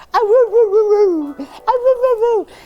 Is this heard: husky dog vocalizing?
yes